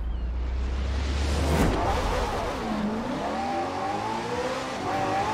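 A McLaren P1 in Forza Horizon 4 accelerates hard on a sprint course, its engine note climbing steadily through the gears, loud and continuous with a brief surge near the start and no talk over it.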